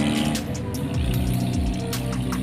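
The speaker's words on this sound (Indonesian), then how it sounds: "bus Kurnia Awi juga lewat teman-teman" A Kurnia Awi intercity bus on the Aceh–Medan route passes close by, its loud engine drone sliding downward in pitch as it goes past, with no voices over it.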